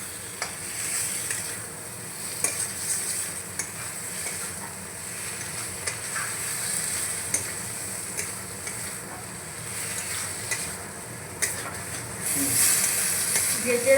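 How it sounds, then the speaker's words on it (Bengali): Spiced potatoes sizzle steadily in a pan of poppy-seed paste, with soft, recurring scrapes and clinks as they are stirred, the frying hiss swelling louder toward the end. "ভেজে রাখা আলুগুলো দিয়ে মশলার সঙ্গে আমি কষিয়ে নিয়েছি"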